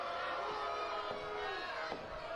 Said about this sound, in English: This crowd absolutely livid with the shot by SOA Amin